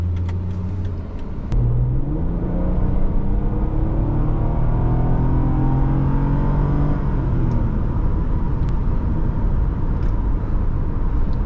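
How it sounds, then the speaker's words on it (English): A 2009 Toyota RAV4 V6 4WD accelerates hard from a standstill in a 0 to 60 run, its engine rising in pitch through several gear changes over a steady road and wind roar from inside the cabin. "let's continue on our drive and do some 0 to 60 tests down the road"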